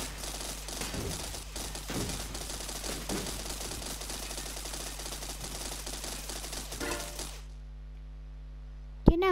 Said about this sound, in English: You've got a lot of 3-pound cannons.